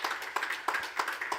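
An audience at an awards ceremony gives brief applause, sounding like a few people clapping, with sharp claps in an uneven rhythm over about a second and a half.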